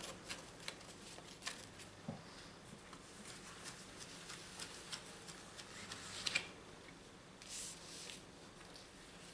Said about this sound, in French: Alors on va recouvrir toutes les cartes maintenant.